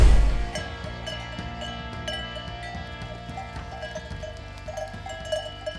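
Rove goats grazing on a hillside, with scattered bleats over ringing bell tones and light rustling, fairly close and clear, no one talking.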